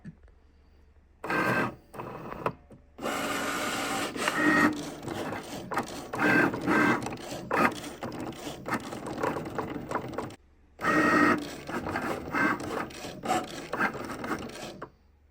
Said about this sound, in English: let's go over and get the mat loaded with the vinyl, and we'll get it cut